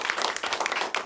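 A congregation at a prayer meeting claps in thanks, a dense patter of many hands close by, steady and moderately loud for a brief moment.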